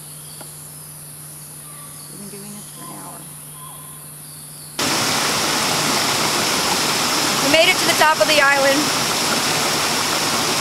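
Rushing jungle stream at the top of Pulau Tioman, the island's water source, gives a steady broadband wash louder in the second half, with insects buzzing faintly beneath and someone talking briefly over it.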